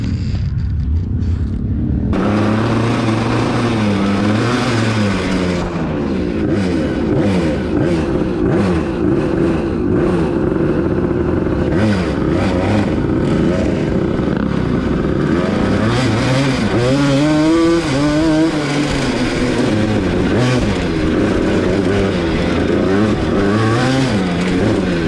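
Racing ride-on lawn mower engines revving loudly at a car show, a continuous buzzing, rising and falling drone with shifting pitch that carries throughout, close and steady with no talk.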